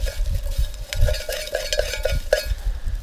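A utensil stirs and scrapes around inside a camping pot during cleaning, making a steady run of soft scraping and swishing strokes close by.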